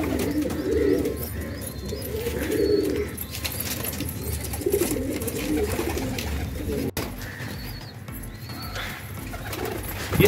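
Fancy pigeons, including Australian breeds, coo steadily in a loft in Andheri West, Versova, with overlapping low throaty coos repeating throughout at a close, even level.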